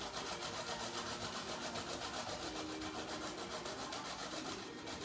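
Cauliflower florets rubbed against a standard cheese grater to make cauliflower rice, a quiet, continuous rhythmic rasping of rapid back-and-forth strokes close by.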